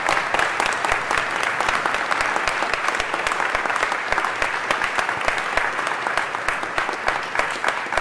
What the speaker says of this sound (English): give the Los Angeles City Council a round of applause, the entire council